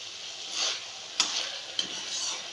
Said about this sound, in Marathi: ही पेस्ट आपण तोपर्यंत हलवायची जोपर्यंत त्याला साईडनं तेल सुटत नाही